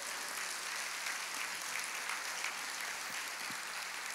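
A church congregation claps together in praise, steady, even applause heard at a distance and fairly faint, with no talking over it.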